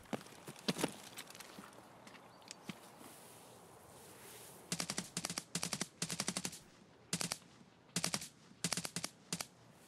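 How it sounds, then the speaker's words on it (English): M1A rifle fire in a video game, sharp gunshots cracking in rapid bursts of several shots each, loud and repeated over several seconds after a few scattered earlier shots. "Just got shot at by an M1A."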